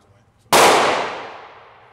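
A single loud, sharp pistol shot goes off during point-shooting practice at a range, then rings and echoes away over about a second and a half.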